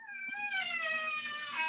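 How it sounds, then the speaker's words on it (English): Squeaky door giving a single drawn-out, high wavering creak that closely resembles a cat's meow, steady and fairly loud for under two seconds with no talking. "Squeaky door."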